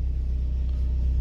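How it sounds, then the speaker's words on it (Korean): A scrapped 2014 Audi Q5 2.0 TDI diesel idles steadily after starting, a close, constant low rumble with an even throbbing pulse and no change in pitch. "시동 걸겠습니다. 네, 엔진 시동 잘 걸리고"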